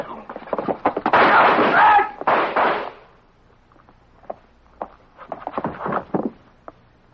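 Gunshots in a radio drama ring out loud and close, several sharp bursts in the first three seconds, then scattered fainter cracks and knocks.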